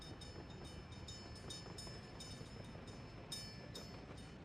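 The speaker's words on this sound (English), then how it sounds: "The first train of our republic." A train in the city-building game Workers & Resources rumbles along steadily and quietly for several seconds, with a continuous rolling noise and faint repeated metallic clicks, maybe rail joints or a bell.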